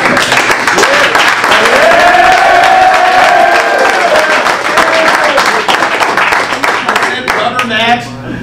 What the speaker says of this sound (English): You started clapping.